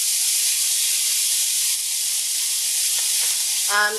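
Steaks frying in a pan, a loud steady hissing sizzle that holds throughout, with a short voice at the very end.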